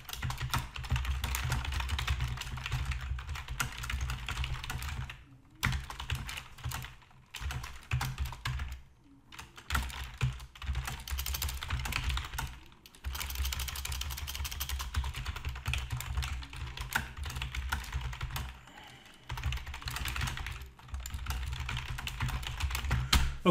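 Steady typing on a computer keyboard, close and clear, a dense stream of key clicks with a few short pauses over about twenty seconds, no talking.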